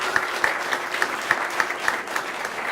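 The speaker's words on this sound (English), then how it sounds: "Let's give them all one more round of applause." Audience applause fills a hall at a Master of Music jazz commencement ceremony, a steady, moderately distant wash of many hands clapping continuously.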